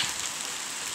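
Hail and heavy rain falling outdoors in Ethiopia, a steady dense patter of drops and pellets hitting surfaces, loud and continuous for the full second with no voices.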